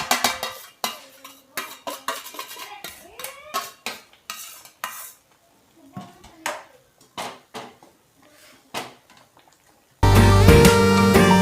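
Semolina being stirred for upma in a pan: repeated scraping strokes of a utensil against metal in an irregular rhythm, close and fairly loud, with a brief sizzle at the end.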